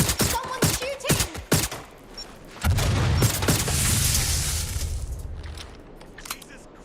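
Gunshots ring out in Watch Dogs Legion: a volley of sharp, loud cracks in quick succession, followed by a sustained rumbling burst of rapid fire that fades out.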